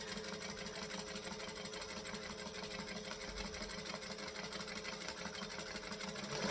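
A sewing machine stitches a straight seam on a fabric triangle bag, running in a steady continuous hum with a fast even rhythmic clatter throughout, fairly quiet and with no voice.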